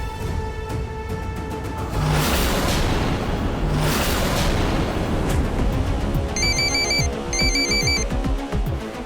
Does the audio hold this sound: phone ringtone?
yes